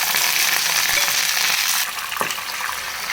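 Mustard seeds, green chilli and curry leaves sizzle steadily in hot oil, a close, bright frying hiss that eases slightly partway through, with a faint pop or stir.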